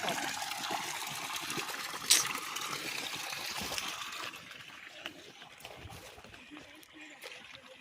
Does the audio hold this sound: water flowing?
yes